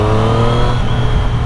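A Triumph three-cylinder motorcycle engine on its stock exhaust runs steadily and loudly up close, a smooth continuous hum with a deep harmonic drone throughout and no talking.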